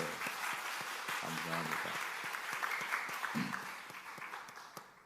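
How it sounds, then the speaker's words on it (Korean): Church congregation applauding the deaconesses after their hymn, steady broad clapping throughout with a voice speaking briefly over it. "우리 권사님들 다시 한번 박수로 격려하겠습니다."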